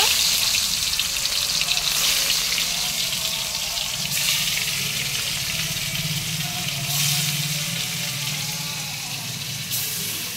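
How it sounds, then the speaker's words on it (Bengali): Shol fish fry in hot oil with a continuous, close, fairly loud hiss and sizzle that barely changes over the whole stretch. "গরম হয়ে গেছে, তেল ঢেলে দিয়েছি। এবার মাছগুলোকে ভেজে নেব।"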